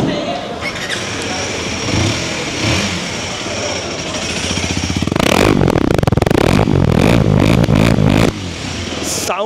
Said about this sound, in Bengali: অ্যান্ড এটার সাউন্ডটা আপনাদেরকে একটু শোনানোর জন্য ট্রাই করি। বাইকটাকে একটু স্টার্ট